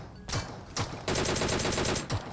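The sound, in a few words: gunfire in the video game PUBG Mobile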